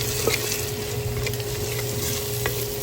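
Steady sizzling and stirring as spices are mixed into shrimp pulao cooking in a clay pot, a continuous close frying hiss with occasional scraping of the spoon, no talk.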